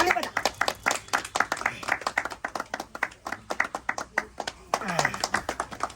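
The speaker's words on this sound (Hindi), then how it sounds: "ताली बजा" Hands clap in quick, uneven bursts close by in a Maithili comedy skit, with people talking and calling out over the clapping throughout.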